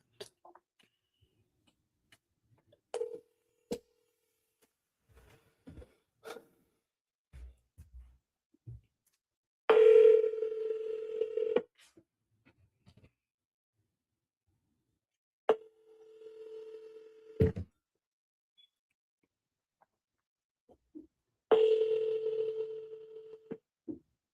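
Telephone dialing tones and a steady dial tone from an outgoing phone call, heard in several separate bursts of tone with short beeps and pauses between them, no one talking.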